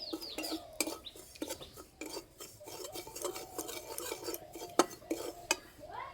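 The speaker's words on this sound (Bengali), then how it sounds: "হালকা করে একটু ভেজে নেব।" Semolina is stirred as it lightly fries in a pan, giving repeated close scraping and clinking of a spoon against the metal, an uneven rhythm of taps and scratches with a faint birdlike chirp in the background.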